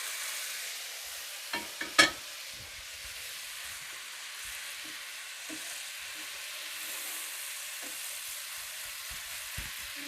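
Cabbage cooking in braising liquid in a pan for Irish braised cabbage, a faint steady sizzle with a few sharp clinks of a utensil early on and no talking.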